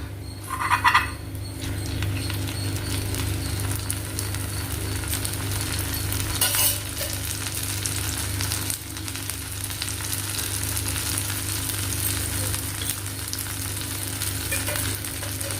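A pearl millet adai with holes poked in it fries in oil on a pan, giving a steady, close crackling sizzle throughout, with a brief scrape near the start and another midway.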